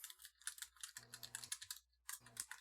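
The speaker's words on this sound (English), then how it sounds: "I'm gonna actually type this" Typing on a computer keyboard, with quick clattering keystrokes in short bursts and brief pauses, close and fairly quiet, no talk.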